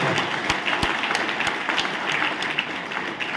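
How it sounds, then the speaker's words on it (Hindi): An audience at a talk session gives applause, a dense soft patter of many hands with a few sharper individual claps standing out, heard throughout. "एक जोरदार ताली हो सकती है चेतना जी के लिए और नेक्स्ट तरुण जी के लिए"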